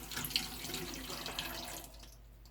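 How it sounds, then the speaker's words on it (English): Water pours from a tap into a small pot in a continuous, splashy stream for about two seconds, then tapers off into quiet. "A little water in this pot."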